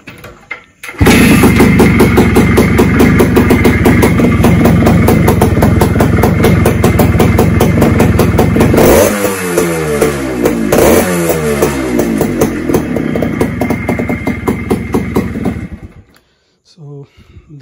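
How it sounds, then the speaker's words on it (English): A TVS Suzuki Shaolin motorcycle engine starts and runs loud and close, with no battery fitted, idling with a rapid chattering pulse, its pitch shifting midway as it settles into a steady idle. "that's a sweet idling noise, and it is running absolutely fine"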